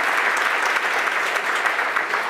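Audience at an insurance awards ceremony breaks into steady, dense applause, a continuous wash of clapping from a large crowd filling the hall with no pauses.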